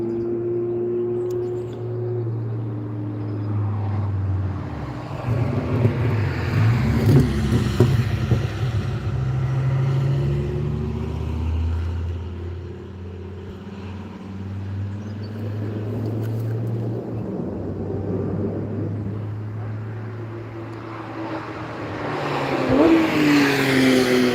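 Race cars lapping the Nürburgring circuit, loud engines rising and falling in pitch as they sweep past one after another, with a continuous roar between passes.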